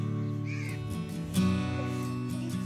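A crow caws several times against a steady tonal background hum, harsh calls recurring at moderate loudness, with one stronger caw midway.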